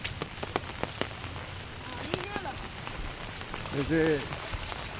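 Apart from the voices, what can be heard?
heavy monsoon rain falling during a flood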